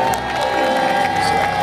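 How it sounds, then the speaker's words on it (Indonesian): A studio audience at a dating game show claps and cheers together, a loud, continuous burst of applause with a few whoops mixed in. "Boleh kita berikan tepuk tangan untuk bodyguard?"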